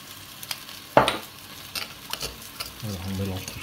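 Rice salad with surimi and herbes de Provence gets tossed in a bowl, with a few sharp clinks and scrapes of a utensil, then a brief soft rattle near the end.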